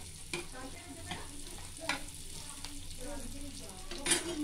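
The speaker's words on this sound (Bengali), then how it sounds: "পেঁয়াজ আর কাঁচা লঙ্কা দিয়ে একটু ভেজে নেব।" Chopped onion and green chili fry in a pan for a sago cutlet filling, giving a steady, close sizzle broken by a few stirring scrapes and clacks.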